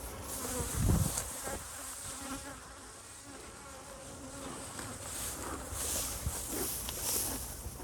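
Honeybees buzz steadily around hives in a cow-pasture apiary, a dense, continuous drone from many insects close by, with a brief louder pass near the start and soft handling noises underneath.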